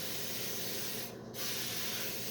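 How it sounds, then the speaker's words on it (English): Cooking spray hisses steadily onto disposable baking pans, a continuous close aerosol spray with one brief pause before it resumes, no talking. "I'm just going to spray this, whether it makes a difference or not."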